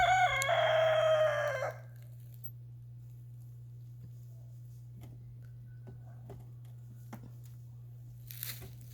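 A rooster crows once, loud and close, for about two seconds, then a quiet backdrop with a steady low hum and scattered faint knocks follows.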